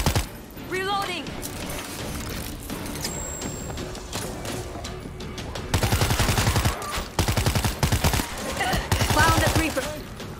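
Gunfire in the zombie shooter World War Z fills the scene with rapid, loud bursts of automatic fire, denser in the second half, under excited in-game voices and player chatter.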